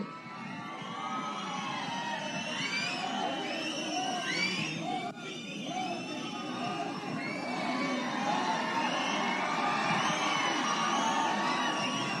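A large crowd of fans cheers, whoops and whistles continuously as actor Dhruva Sarja comes onto a stage at a Mirai movie event, a dense, loud roar with shrill whistles rising throughout.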